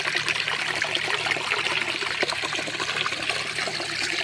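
Water trickles and splashes steadily at a small mini waterfall in Barangay Abuyon, a continuous close bubbling wash with no voices.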